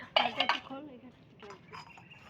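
Dishes being washed by hand on a rooftop: clinking metal pots and cutlery scraping in a few sharp bursts at the start, then softer clatter, with a voice faintly talking nearby.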